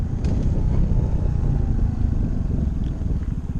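A motorcycle sits stopped on a road trip in Mexico with its engine running, a steady loud idle with a fine, regular pulsing throb and no pauses.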